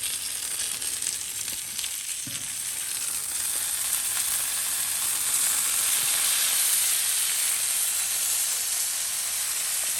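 Pork ribs sizzling in butter on a Blackstone flat top grill outdoors, a loud, steady, dense hiss of frying that holds evenly throughout with no voices.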